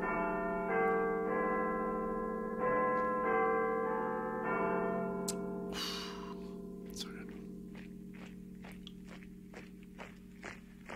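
Tolling church-style bells from a song, sounding as sustained, ringing tones under music with repeated strikes, then sharper percussive hits in the later part of the track.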